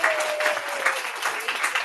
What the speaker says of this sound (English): let's give a bit of a louder round of applause